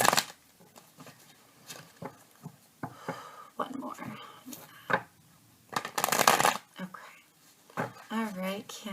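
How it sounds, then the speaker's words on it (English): A deck of tarot cards is shuffled by hand in bursts of riffling and brisk slapping, broken up by short pauses, with a soft voice talking in between. "Let's get them nice and shuffled, darling."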